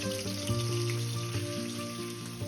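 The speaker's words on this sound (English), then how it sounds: "We're gonna take it to the stove and sear the sides of the meat to get a nice brown color" Short ribs searing in a hot pan on a stove give a soft, steady sizzle and crackle. Tonal background music plays over the sizzle throughout.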